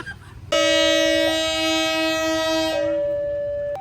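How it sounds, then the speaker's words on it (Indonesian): A long, loud, sustained horn blast from a pair of CC 300 diesel locomotives at Probolinggo station, starting abruptly and holding steady for about three seconds before tapering, close by over faint crowd chatter. "Klakson udah terdengar"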